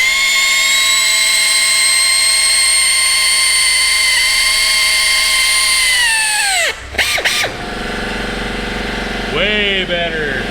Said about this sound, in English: sharpen that drill bit. Let's see if that helps.